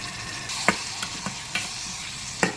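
Cranberry pickle mixture sizzling in a pan as a spoon stirs it, giving several sharp scraping strokes spaced apart over a steady frying hiss, close and clear with no talk.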